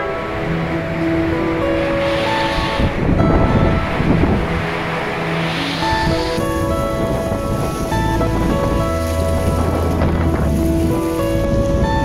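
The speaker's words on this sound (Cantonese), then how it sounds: "適逢陣風強勁" Strong gusty wind and churning surf on a rocky Hong Kong coast near a sea cave, a steady loud roar of wind and breaking waves throughout, with some tonal background sound laid over it.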